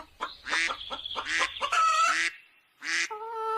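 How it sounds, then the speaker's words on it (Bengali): Ducks and chickens in a cartoon give a burst of loud, close quacking and clucking calls in quick succession, then a short pause before a few more honking calls, with no talking. "সে হাট থেকে একটা গাভী, দুটো হাঁস ও দুটো মুরগি কিনে বাড়ি ফিরল।"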